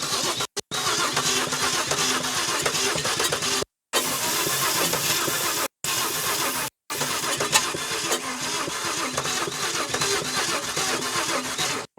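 Holden HR car engine cranking over and over in a struggling attempt to start, a loud continuous churning broken by a few brief pauses between tries, outdoors.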